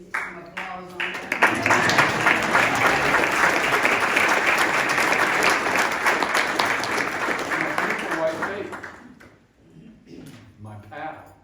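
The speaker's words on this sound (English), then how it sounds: "We need some applause on that." An audience applauds at a sheriff's inaugural address, loud sustained clapping that swells quickly, holds for about seven seconds, then fades as a speaker resumes talking.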